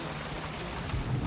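Heavy rain pours down steadily around a 2010 Grand Marquis, a dense, loud, continuous hiss without any voices.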